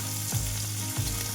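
Chopped onion fries in hot oil with cumin seeds and bay leaves, giving a close, steady sizzle broken by two quick stirring scrapes.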